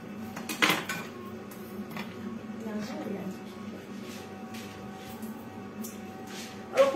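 Metal pans and utensils clatter and scrape at close range as a sponge cake is unmolded from a metal mould, with a sharp clank near the start and another at the end over a low background hum.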